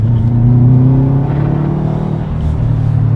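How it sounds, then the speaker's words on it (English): A Subaru WRX engine roars and revs steadily as the car accelerates hard, a loud continuous low rumble with rising engine tones and no talking. "you just punch it and the car just hooks and goes"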